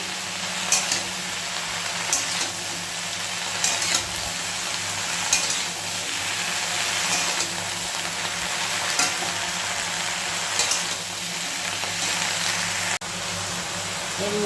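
Water lily stems cook with salt in a pan, a loud steady sizzle broken by regular scraping stirs roughly every second or two.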